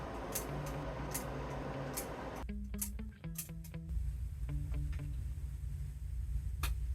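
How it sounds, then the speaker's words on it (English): A few sharp mechanical clicks and short rattling snaps, close and quiet, as a film spool adapter breaks inside a 90-year-old camera, with soft handling noise around them. "that was the sound of the adapter breaking inside the camera"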